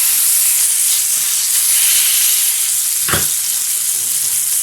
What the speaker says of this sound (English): Want to see how it sizzles?